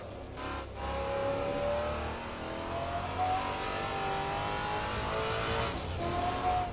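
An AMC Javelin race car in Assetto Corsa, its engine loud and close, revving hard through rising pitch sweeps with gear changes and tire noise as it accelerates around a track.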